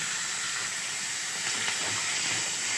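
Kan fish fry in hot oil with a dense, continuous hiss and sizzle, broken by soft pops and splatters, close and steady throughout.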